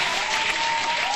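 A short burst of dense crowd applause, played as a sound effect during a crypto market livestream, steady and loud for about a second without any individual claps standing out.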